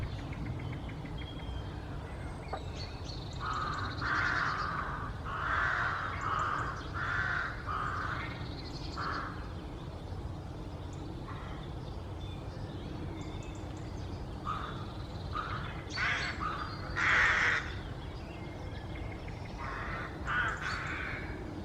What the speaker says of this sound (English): you will hear the background of the cawing of the rooks